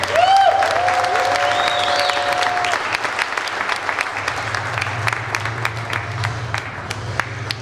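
A pageant crowd applauds steadily with scattered cheers and whistles, the clapping dense and sustained throughout.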